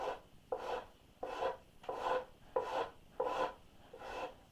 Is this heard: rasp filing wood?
yes